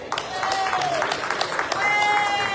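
Applause from a convention dinner audience, dense clapping that swells and holds steady for a couple of seconds, with a faint tone ringing over it.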